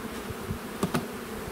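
Honeybees at an apiary hive on a hot, sunny day hum in a steady low drone while hive frames are handled, with two sharp clicks close by.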